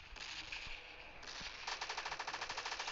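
Rapid bursts of automatic gunfire from the video game PUBG Mobile Lite, a short volley then a steady rattling stream of shots, loud and close.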